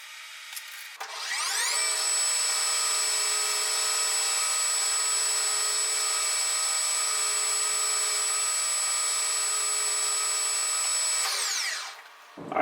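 A lathe turns metal with a resharpened brazed carbide tool, spinning up to a loud, steady whine with strong ringing tones that holds for about ten seconds, then winds down; no speech.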